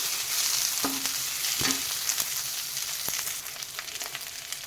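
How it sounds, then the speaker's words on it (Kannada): Coriander leaves fry in a pan for hotel-style chutney, giving a steady hiss with a few sharp stirring clacks near the start and softer scrapes later, close by with no talking. "ಈಗ ಇದು ಒಂದು ಸ್ವಲ್ಪ ಫ್ರೈ ಆಗಬೇಕು ಚೆನ್ನಾಗಿ."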